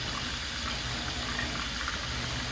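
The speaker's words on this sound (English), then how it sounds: "I'm just going to put some water in here" Water running from a tap into a pot holding a frozen pork roast, a steady close rushing fill with no talking over it.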